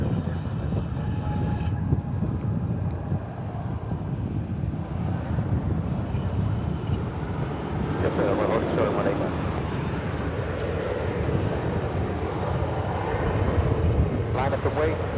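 An American Eagle regional flight touches down at DFW, a steady moderate rumble of engine and airflow under ongoing talk, with a brief swell partway through and the noise persisting to the end.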